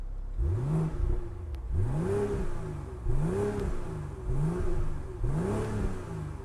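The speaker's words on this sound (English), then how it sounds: "But I'm gonna give it some revs." A 2022 BMW X4 M40i in Sport Plus mode revs five times in steady succession, each sharp rising vroom dropping back to idle, close and loud with no talking.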